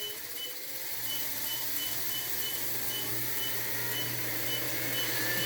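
An Urevo treadmill running with a loud, steady mechanical drone and whine, even after its belt was oiled, joined by a faint repeating high beep; the noise stays constant and close throughout with no talking.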